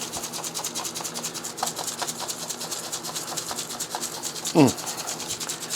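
Seasoning coating rubbed by hand onto chicken thighs, a close, steady rasping scrub repeating in quick strokes, with one brief louder knock near the end and no talking.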